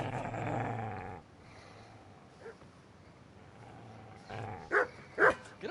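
Dog in Kingdom Come: Deliverance growling and snarling, a sustained rough growl at first, then quieter ambience and a couple of sharp barks or yelps near the end.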